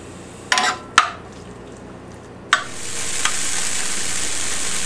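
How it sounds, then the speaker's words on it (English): Tofu fries in hot oil in a pan for a taco casserole, a steady close sizzle building after a few sharp clanks and scrapes of a utensil against the pan. "We're going to let this cook until the tofu starts to turn brown."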